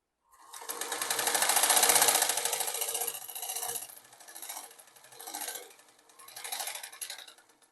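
A close, loud sewing machine stitches a second, outer line of a double seam on a salwar, one long run followed by several shorter bursts with brief pauses between.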